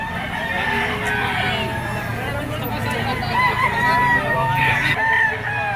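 A yellow-legged bull stag rooster crows loudly and repeatedly close by, with other fowl clucking and crowing around it amid background voices and yard noise.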